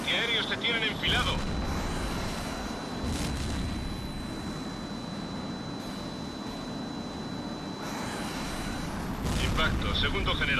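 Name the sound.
anti-aircraft gunfire in the video game Tom Clancy's HAWX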